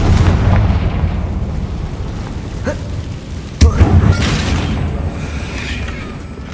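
A Confringo spell in Hogwarts Legacy explodes on a bridge with a sharp crack and burst midway, over a constant booming rumble of ambient noise and effects that runs throughout.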